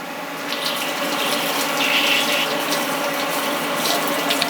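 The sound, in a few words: coolant spraying from a machine's washdown hose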